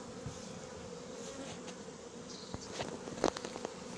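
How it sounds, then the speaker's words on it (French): Honeybees fan and call at a hive entrance, a dense, steady buzzing hum close by and fairly faint, with a few brief knocks and a louder burst near the end. "Les abeilles qui battent leur appel."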